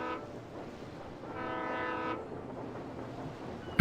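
Train pulling into a station in the video game Alan Wake, a steady rumble of railcars with a brighter horn-like tonal swell in the middle, fairly close and without talk.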